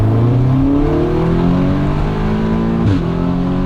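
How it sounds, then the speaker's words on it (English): Audi S3 with a DSG gearbox accelerating hard, its engine note climbing through rising revs, then a short sharp exhaust pop at a gear change before the pull resumes, loud and close. "The DSG farts are insane."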